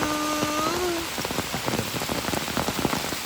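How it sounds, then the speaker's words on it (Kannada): Rain patters steadily on a surface nearby, with scattered louder drips; a brief tonal whine sounds at the start. "ಮಳೆ ಬಂತು ಮಳೆ ಬಂತು"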